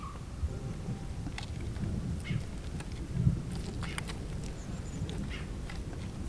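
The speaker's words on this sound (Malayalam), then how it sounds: "അതെ, നല്ല ഇടിമുഴ." Thunder rumbles outdoors as a low, steady, continuous roll during an outdoor tandoori chicken cook, with a few faint ticks and taps scattered over it.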